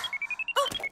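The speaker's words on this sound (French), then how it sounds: "c'est mon alarme de rappel. Je dois partir." A reminder alarm rings in a quick series of short electronic beeps, close and clear, followed by a brief jumbled electronic chime, with no voices.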